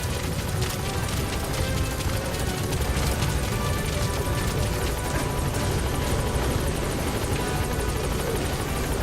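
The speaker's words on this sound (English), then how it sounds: "Support helicopter has arrived." A support helicopter arrives at a landing zone in the video game Metal Gear Solid V: The Phantom Pain, its rotor and engine roaring loudly and steadily throughout, with no voices over it.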